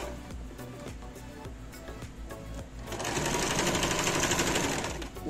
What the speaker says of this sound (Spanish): Vamos a cerrarla de los lados con una costura como de 1 centímetro de ancho.